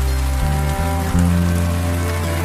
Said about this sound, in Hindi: बारिश थमने का नाम नहीं ले रही।